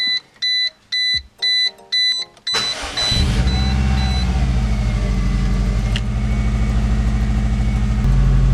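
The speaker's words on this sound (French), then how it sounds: "Normalement, je peux démarrer." A Subaru WRX with newly fitted gauges gives a series of rhythmic dashboard chimes before the engine cranks and fires, then settles into a loud, steady, close idle.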